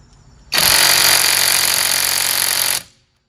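A VEVOR 12V cordless impact wrench hammers at a car lug nut in one loud, continuous rattling burst of about two seconds, close up, then stops abruptly.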